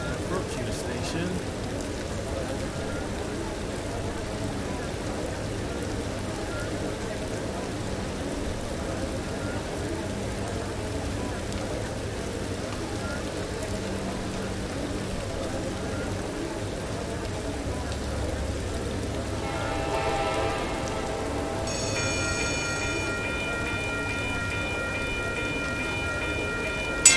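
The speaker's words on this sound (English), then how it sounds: "Okay, the train is approaching the station." Tram approaching a station in the Trainz 2019 rail simulator, a continuous low rumble of wheels and motor throughout, joined near the end by bright tonal chimes or horn-like signals, with no voices.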